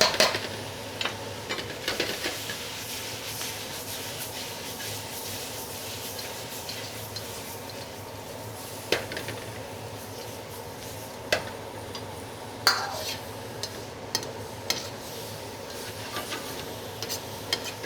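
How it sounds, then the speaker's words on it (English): Seafood cooks in a wok with a steady background sizzle, broken by occasional sharp clanks and scrapes of stirring utensils against the metal. "As the seafood gets done and gets cooked"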